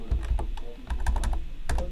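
Rapid typing on a computer keyboard with a QWERTY layout, a close series of irregular clicks and keystrokes with no talking.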